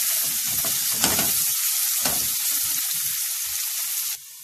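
Onion sizzles and fries in a hot pan, with a constant hiss of oil broken by scraping stirs, close and fairly loud, the sizzle cutting off sharply near the end.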